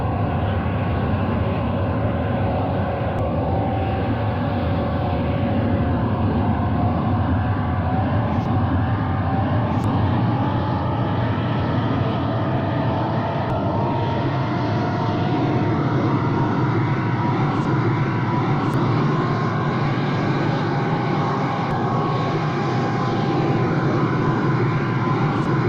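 Dassault Mirage IIIO jet engine idling at around 2,800 to 2,900 RPM in a flight sim game: a steady, loud, unbroken roar with layered drones and a constant whine that holds level throughout.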